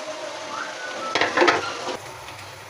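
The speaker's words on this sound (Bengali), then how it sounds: "শেষ আমাদের বেলা, এখন আমরা ভাজবো।" Velpuri dough balls frying in oil: a soft, low background hiss swells into a short, brighter sizzling burst before settling back to a quiet simmer.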